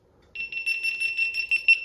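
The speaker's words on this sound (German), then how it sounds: "das Piepsen immer wieder das gleiche, ist immer wieder nervig" A camera emits a rapid series of short, bright electronic beeps in quick succession, a close and clear repeated signal with no talk over it.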